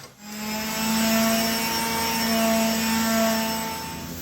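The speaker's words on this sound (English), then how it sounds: "I gave it a quick sand." A power sander runs steadily on a wooden beehive part, giving a loud, continuous whine with a steady hum that holds for several seconds without a break.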